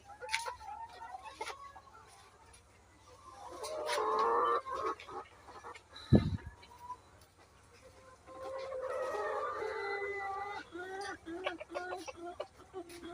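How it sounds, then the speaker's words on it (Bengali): Caged chickens fed by an automatic water system cluck and squawk in uneven bursts, close by, while someone talks over them. "মুরগির পানি খাচ্ছে।"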